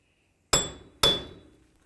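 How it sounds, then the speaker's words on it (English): Two sharp metallic hammer strikes on a 2000-2005 Buick LeSabre front wheel axle to break it free from the steering knuckle, spaced about half a second apart, loud and close with ringing decay, no talking. "we're going to continue with our hammer and we're going to give this a couple loving bonks just to try to break it free from the knuckle"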